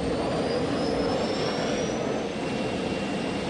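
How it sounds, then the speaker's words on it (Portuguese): A loud, steady motorcycle engine roar in the video game Last Day On Earth drones on without a break, with a thin whine slowly rising in pitch above it; no voices. "Vamos ver de novo o som da minha moto"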